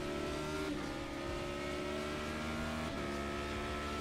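A race car engine in the racing sim iRacing holds a steady, buzzing drone, its pitch sliding down and climbing again through gear changes, with nobody talking.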